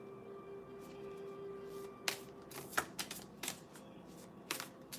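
A tarot deck being shuffled by hand, with a soft steady rustle under a faint tone, then a run of sharp riffling snaps and flicks in quick irregular bursts close by.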